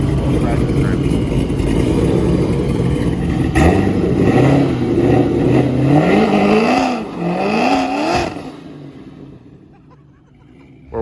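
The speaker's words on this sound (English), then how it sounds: "practice burnout. Practice burnout" A Corvette C7 revs hard during a practice burnout, its engine note rising and falling in repeated swells with voices mixed in, then dropping away near the end.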